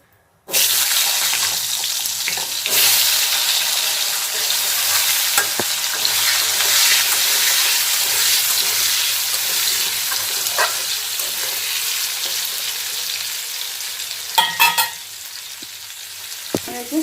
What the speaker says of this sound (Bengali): আলুটা আমি দিয়ে দিই তেলের মধ্যে।